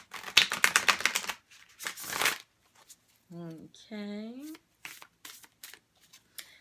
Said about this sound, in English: Want to get a really good shuffle on these.